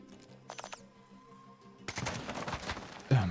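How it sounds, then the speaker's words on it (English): Gunfire in the tactical game Jagged Alliance 3: after quiet interface ticks, a cluster of loud close shots and bursts erupts in the last second and a half. "MD, you guys start shooting them."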